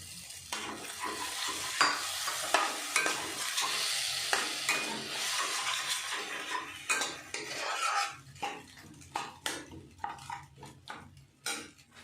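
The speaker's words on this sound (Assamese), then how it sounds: "অকণমান ভাজি ল'ম এইখিনি" Food frying in a pan with repeated metallic scraping and clinking of a utensil stirring, a soft sizzle underneath, no talking.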